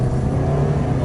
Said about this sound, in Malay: engine mengaum ECVT mengaum